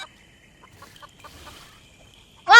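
A chicken in a Roblox jump-map game gives a short, loud burst of clucking right at the end, after near-silence.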